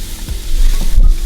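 Purple cabbage dropped into a pan still coated with fish juices sizzles up in a short, loud burst of crackling hiss with a couple of heavier thumps.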